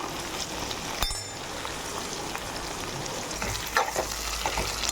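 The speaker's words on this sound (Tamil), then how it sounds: "இப்போ இதெல்லாம் சும்மா ஒரு பரத்தை பரட்டிக்கலாம்" Ingredients for a prawn curry, including prawns and raw banana, are stir-fried in a pan with a steady close sizzle and occasional scraping and clinking stirs.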